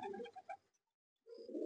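Malwai pigeons cooing inside a coop: a soft cluster of low coos, a short silence, then a fuller, louder run of cooing close by.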